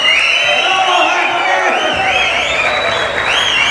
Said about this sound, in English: Can you whistle and can you make a huge applause or whatever the way?